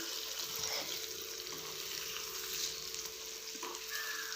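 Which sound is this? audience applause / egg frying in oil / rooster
egg frying in oil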